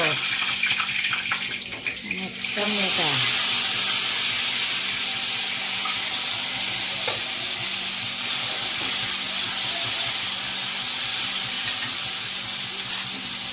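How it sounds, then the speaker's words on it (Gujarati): Mustard seeds, cumin and curry leaves dropped into hot oil, a sudden loud hiss that settles into a steady crackling sizzle lasting several seconds, with faint kitchen clatter before it. "રાઈ જીરાનો વઘાર લીમડો"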